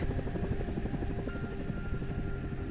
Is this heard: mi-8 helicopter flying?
yes